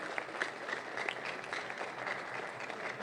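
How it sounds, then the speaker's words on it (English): Applause from a large audience at a national trade union congress, faint and distant, forming a continuous soft patter with no speech over it. "Please encourage him with a round of applause."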